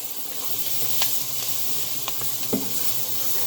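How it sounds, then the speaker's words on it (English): Pork tenderloin sizzles steadily in a pan while flour is stirred through it, with a few soft utensil scrapes and clicks rising over the constant frying hiss; no one speaks. "Mix the flour through."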